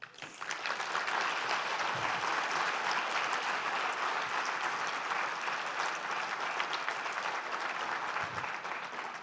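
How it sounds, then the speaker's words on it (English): A crowd applauding a conference speaker, sustained dense clapping that swells in quickly and holds at a steady level for several seconds. "please, again, give a round of applause for the dynamic Dr. Dijak"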